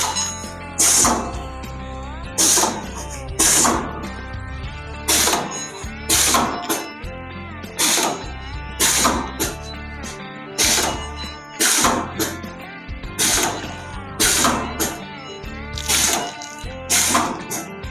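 Automatic masala packet packing machine running a 5-packet cycle, with a steady loud mechanical hum and sharp rhythmic cutting or sealing clacks repeating about once a second, close up with no talking.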